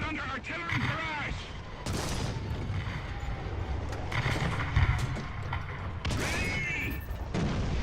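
Artillery shells and gunfire crash around a tank in the War Thunder game's ground battle, loud irregular booms and bursts that overlap unevenly, with someone talking over the fighting.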